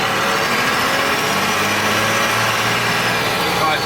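A 12-valve Cummins diesel swapped into a square-body truck, fitted with a 215 injection pump, runs loud and close with a steady broadband roar and low rumble throughout, no talk over it.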